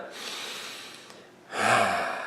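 Two deep breaths, close and fairly soft: a long inhale, a brief pause, then a fuller exhale or second breath.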